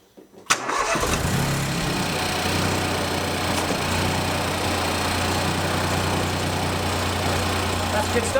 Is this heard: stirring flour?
no